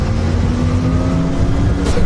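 A powerful car engine roars steadily at close range, a continuous throaty drone with a slight rise in intensity toward the end.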